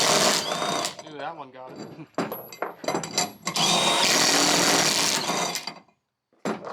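A small impact wrench rattles nuts off the differential U-bolts on a 2004 light-duty truck, in loud hammering bursts with short pauses between them, while people talk nearby.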